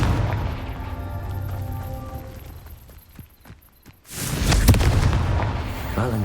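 A Confringo blasting curse explodes in Hogwarts Legacy: a sudden loud burst after a near-silent lull, followed by a roaring, crackling tail and a final sharp crack.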